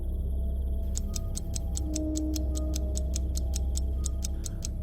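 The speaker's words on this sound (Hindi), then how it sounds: "उसके हाथ में चिपकी हुई घड़ी लगातार चल रही थी।" A steady clock ticks through a horror story, about four even ticks per second, loud and regular over a low rumbling background, with no one speaking.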